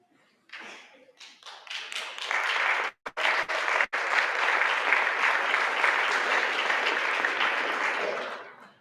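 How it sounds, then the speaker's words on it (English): A large audience at an annual Dr. Martin Luther King Jr. celebration applauds its awardees, with dense, sustained clapping that starts scattered, breaks briefly, then holds steady for several seconds before fading. "Let's give all of our awardees tonight a rousing round of applause."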